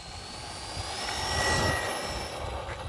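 A Losi Mini LMT RC truck on a 3S battery runs flat out, its high electric motor whine rising and fading as it passes fairly close, with a steady thin tonal scream over a broad rushing noise.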